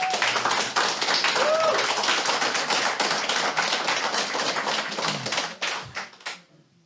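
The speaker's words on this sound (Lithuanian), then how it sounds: "Nerimantas Jucius, jūsų aplodismentai." Audience applause greets a team member being introduced at a Dakar rally team presentation evening: dense, steady clapping from a crowd that holds for several seconds, then thins out and fades away at the end.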